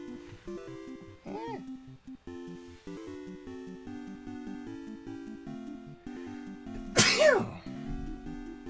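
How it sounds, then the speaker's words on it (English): A single sneeze bursts out near the end, loud and close, after a stretch of steady tonal background music, with a brief squeaky sound earlier. "Sneeze."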